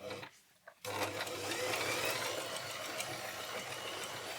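Family Hobby Line 39 sewing machine running a decorative stitch: after a brief quiet start it whirs into a steady, loud, close mechanical hum with rapid needle chatter.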